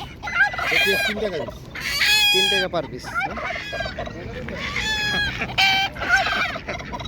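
Native ducks and other poultry squawk, cluck and gobble loudly and close by in a crowded, busy poultry market, with a voice talking among the birds.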